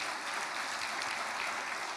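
A church congregation applauds together, a dense, even wash of clapping that holds steady at full strength throughout.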